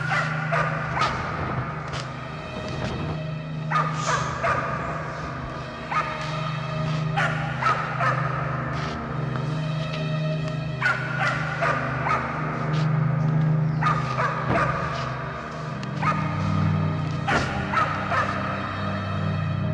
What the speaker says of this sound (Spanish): se percató de los ladridos del perro guardián de la finca